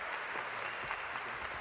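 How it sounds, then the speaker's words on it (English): A graduation audience at Leander applauds a salutatorian, a steady wash of dense clapping sustained evenly from start to finish. "that was a lot of applause for the first loser"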